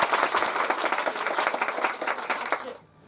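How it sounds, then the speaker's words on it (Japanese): An audience at a live comedy battle event applauds to judge a round, a dense, loud burst of clapping that holds steady and then cuts off abruptly near the end. "さあ、それでは面白かった方に拍手をお願いいたします。"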